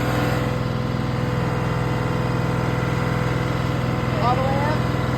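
Tractor diesel engine idling with a shredder hooked up, a steady low throbbing drone close by, with a brief faint voice near the end.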